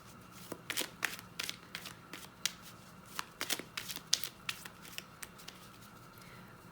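Tarot cards shuffled by hand in quick, crisp riffles and flicks, close and fairly quiet, in irregular clusters with short pauses between.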